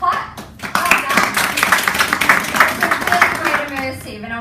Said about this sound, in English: Everyone give them a clap.